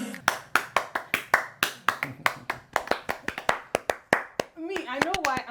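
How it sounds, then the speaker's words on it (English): Hands clap in a steady, brisk series of sharp, close claps that carry through most of the stretch, then give way to a voice speaking near the end. "Me, I know why I'm clapping."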